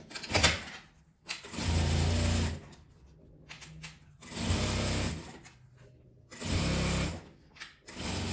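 A sewing machine runs in short stitching bursts of about a second each while sewing a tulip-shaped necessaire bag, with quiet pauses and handling between runs, close and clear.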